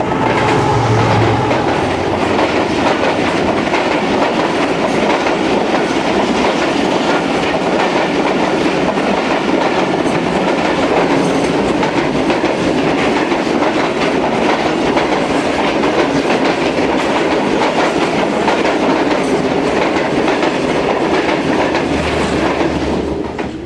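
34 Down Business Express passenger train running at speed, a continuous loud roar of wheels and rattling carriages with rhythmic clickety-clack over rail joints, heard close by for the whole stretch.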